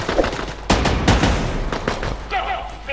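Gunfire battle in the video game Fortnite, several sharp bursts of shots and booms cutting in loud and close, with game sounds between them.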